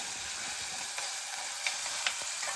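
Curry masala sautéing in a hot pan gives a steady, close sizzle with crackling oil, broken by a few sharp pops and soft stirring scrapes.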